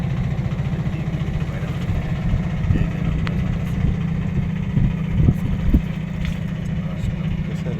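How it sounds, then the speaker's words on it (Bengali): An empty trawler boat's engine chugs steadily as the boat passes close by, a low continuous throbbing drone with a slight swell midway, heard over water with faint background noise. "দেখেন এই যে কত সুন্দর সামনে দিয়ে চলে যাচ্ছে ট্রলারটা"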